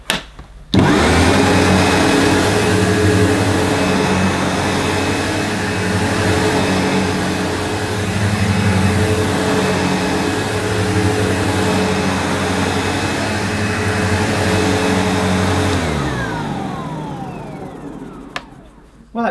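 A Sebo Ensign Stealth vacuum cleaner runs on a plush-pile carpet with a loud, steady motor drone that holds for about fifteen seconds and then winds down toward the end.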